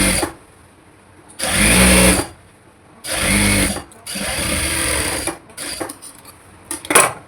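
Sewing machine stitching the skirt panel of an umbrella frock, running in three loud bursts of rapid whirring separated by short pauses, then a few brief stop-start stitches near the end, with no talking.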